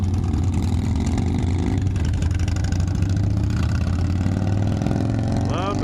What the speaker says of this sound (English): Love the sound of those motors.